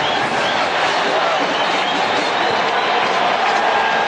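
Football stadium crowd roaring for the Saints defense in a 1988 game against the Raiders, a loud, continuous wall of cheering and noise with no letup.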